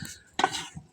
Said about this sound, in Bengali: এখন আবার কষানোর জন্য ঢেকে দিল।